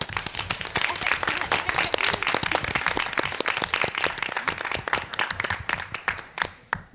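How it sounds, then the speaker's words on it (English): Students at a school board meeting giving themselves a round of applause: dense, continuous clapping from a crowd that holds strong for about five seconds, then thins into scattered claps, with a few voices mixed in. "Give yourselves a round of applause."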